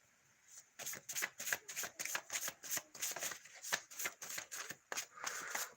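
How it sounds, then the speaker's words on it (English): Tarot cards are shuffled by hand in a quiet room, giving a long run of quick, crisp riffling bursts at close range in an uneven rhythm, with no talking over them. "Let's shuffle that back in."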